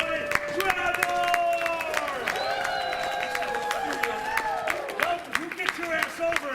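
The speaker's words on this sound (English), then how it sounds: "Let's give a huge round of applause for the MC of Charity." An audience at an improv comedy show breaks into applause for the MC, scattered claps and cheers rising over overlapping voices and whoops, moderately near.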